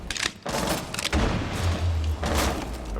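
Gunfire in the Rainbow Six Siege map House during a competitive match, with dense bursts of shots and heavy low thuds packed together across the few seconds, loud and continuous with no talk over it.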